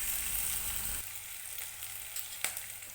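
Garlic paste and onion, with a bay leaf, sizzle in hot oil in a pan, a loud crackling hiss that softens after the first second into a quieter, steady fry with occasional pops.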